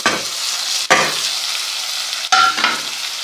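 Tomatoes tipped into a hot pan of garlic for a dry fenugreek and potato curry, frying with a steady loud sizzle while a spoon stirs and scrapes, with two sharp clatters of the spoon against the pan.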